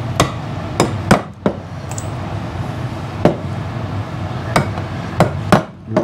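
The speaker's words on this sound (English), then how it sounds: "So we got to finish nailing here now." A hammer drives nails to pin a beaver skin flat on a wooden stretching board, sharp close blows arriving irregularly, some in quick pairs, about nine strikes in six seconds.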